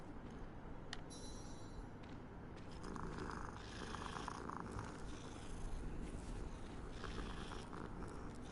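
A cat purring steadily in a Hogwarts-themed video game, a soft continuous rumbling purr that runs the whole time with no voices over it.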